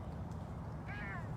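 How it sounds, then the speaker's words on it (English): A Savannah cat gives one short, rising-then-falling meow, faint beneath a steady low indoor hum. "Beecher is a Savannah cat"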